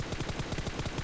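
Rapid automatic gunfire from a mobile shooter game played on a Samsung phone: a dense burst of quick, evenly spaced shots at close range, loud and without talk.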